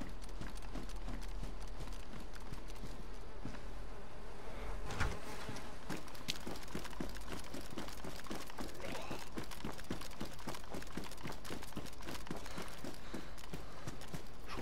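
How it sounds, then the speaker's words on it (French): Flies buzzing in the game DayZ, a steady close drone running without a break alongside rhythmic footstep-like clicks. "je vais entendre les mouches de l'autre côté du mur"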